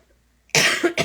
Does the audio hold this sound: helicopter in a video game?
no